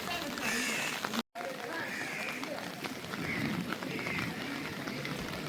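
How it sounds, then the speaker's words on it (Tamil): Heavy rain pouring over an open-air fish market during an auction, a constant hiss of drops on surfaces with faint distant crowd activity underneath and a brief dropout partway through. "மழையும் வந்து இன்றைக்கு கடுமையாக பெஞ்சு கொண்டே தான் இருக்குது"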